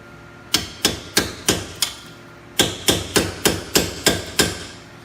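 A hammer strikes a chisel to split apart front wheel bearing parts on a 2001-2012 Ford Escape, two bursts of loud, evenly spaced metallic blows, five then seven, close and with no talk.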